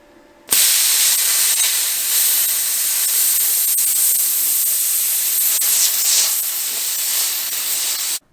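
A plasma cutter slices through metal plate along a rough marked shape, a loud, steady, hissing roar that starts abruptly and runs continuously before cutting off.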